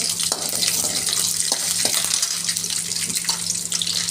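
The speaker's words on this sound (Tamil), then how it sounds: "கரண்டியில் லைட்டாக தண்ணி இருக்குது, அதனால் ஒரு மாதிரி பொரியுது." Urad dal and chana dal fry in a pan with a little water on the ladle, giving a continuous loud hissing, crackling sizzle with a few sharper spits, close by and without speech.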